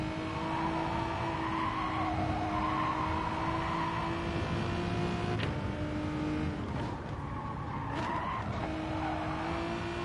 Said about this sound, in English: I think the tyres are just slightly starting to let go now.